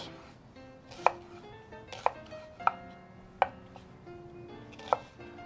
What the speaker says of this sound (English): Now, for the onion, I'm going to cut parallel to the straight end.